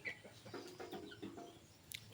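A castrated desi rooster gives a few soft, short clucks nearby, faint against quiet background noise.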